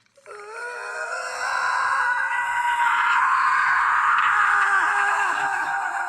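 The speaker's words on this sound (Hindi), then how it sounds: "फोन के स्पीकर से एक बहुत तेज चीख निकलती है।" A loud, sustained high-pitched scream from a phone speaker in a horror animation rises and holds for several seconds, harsh and slightly tinny, with no talking.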